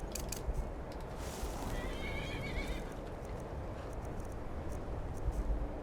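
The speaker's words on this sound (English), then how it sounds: "Ah, my horse is fighting a thing." A horse in the Skyrim video game neighs and whinnies repeatedly while fighting, with hoof clip-clops, all fairly faint against background game ambience.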